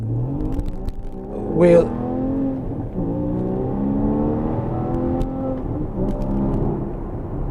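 Porsche Boxster Spyder with an Akrapovic exhaust revving up close, engine tone rising and falling steadily throughout, with a person speaking briefly over it.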